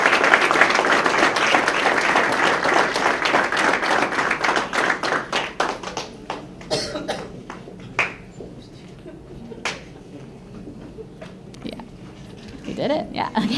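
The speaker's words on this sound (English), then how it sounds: "let's give a round of applause to Miss Alexandra Martinez" Applause from the crowd at a high school letter-of-intent signing for Alexandra Martinez: dense clapping that starts strong, then thins into scattered claps and fades, with a brief late swell.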